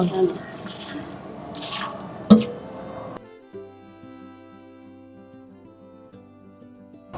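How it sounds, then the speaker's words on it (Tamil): Water poured over mutton in a large pot while a 5 kg mutton dum biryani cooks: about three seconds of close splashing and gushing, with a sharp knock partway, then a quieter stretch of steady tones. "இப்போ கறி வேகிறதுக்கு மட்டும் தண்ணி ஊற்றுறீங்களா"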